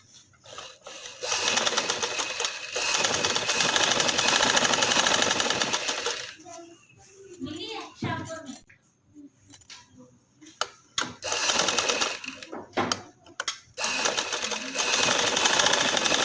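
A sewing machine runs in long steady bursts while stitching a kameez, stopping and starting with short pauses, and someone speaks during the quieter gaps.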